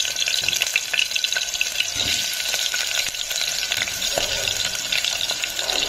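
Cumin, one or two dried red chillies and potatoes fry in hot oil, a dense continuous sizzle with occasional stirring scrapes, close and loud, without speech.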